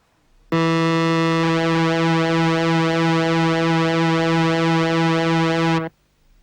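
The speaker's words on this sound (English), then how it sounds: "This is called pulse width modulation, and it sounds like this" A held synthesizer pulse-wave note with its width modulated by an LFO, giving a continuous, slowly shimmering, phasing timbre that lasts about five seconds at steady loudness before stopping abruptly.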